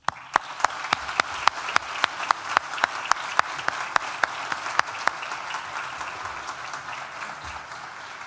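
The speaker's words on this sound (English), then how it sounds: "Graduates, please join me in a round of applause to thank those sitting here below you" Applause at a law school graduation ceremony in a hall: a few sharp, evenly spaced claps ring out clearly over a steady bed of crowd clapping that carries on evenly.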